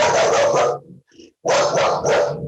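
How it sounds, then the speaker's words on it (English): A shelter dog barks in a room, two loud bursts of rapid, close barking separated by a short pause, with no talk over it. "I have my shelter dog with me in my room."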